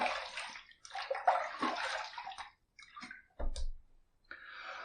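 Running water rinses a Phoenix Shaving Quantum safety razor in short bursts of splashing and trickling, close and fairly quiet, with pauses and a small clack partway through.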